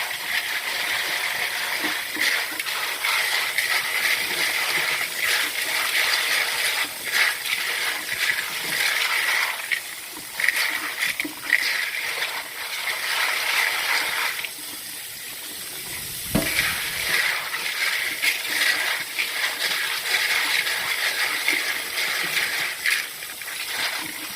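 Dry beans being rinsed under a running kitchen tap, a steady close gush of water splashing into a sink, with brief dips and surges as the beans are stirred and shifted.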